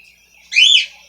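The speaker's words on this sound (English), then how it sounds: "that bird needs to go to sleep." A single bird chirps at night, one sharp, bright, sweeping call close by after a faint high tone, in otherwise quiet surroundings.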